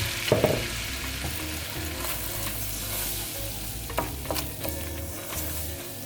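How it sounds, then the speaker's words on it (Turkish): Flour is roasted in melted butter for a lasagna sauce, with a steady buttery sizzle and frying hiss under repeated scraping stirs of a spoon against the pan, heard up close. "Unumuzu iyice kavuruyoruz."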